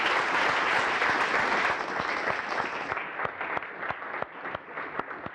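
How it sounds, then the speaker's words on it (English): After a talk at a tech meetup, the audience breaks into loud, dense applause that thins out midway into scattered individual claps from a smaller group, fading toward the end. "Can I ask someone to give a massive round of applause?"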